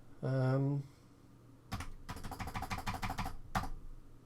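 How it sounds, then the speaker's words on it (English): Keys clatter on a Commodore 64 keyboard in a fast, irregular run of close clicks, with a separate brief tone just before the typing starts. "it's powered up and keyboard's responsive"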